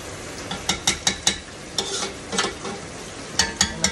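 Onions and green pepper frying in a pan, a steady close sizzle broken by repeated sharp scrapes and clacks of a utensil stirring in short bursts.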